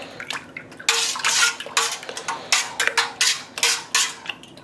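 A natural dye pot of logwood and cutch being stirred in a metal kettle, with a utensil clanking and scraping against the pot in uneven bursts alongside sloshing liquid, close and fairly loud.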